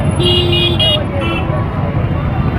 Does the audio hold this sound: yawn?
no